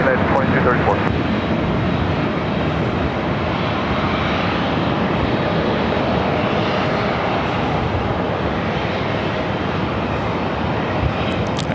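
Airliner jet engines roaring at LAX airport as planes on runway 24 take off, including a Southwest 737, a loud continuous broadband rumble with wind noise, and a voice talking over it.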